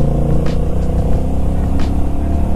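Honda Rebel 1100 automatic motorcycle engine revved hard under full throttle, a loud, steady low rumble with rising surges, close up and with no talk.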